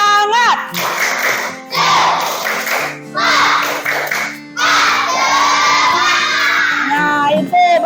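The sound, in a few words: pupils doing rhythmic spirit clap (tepuk semangat)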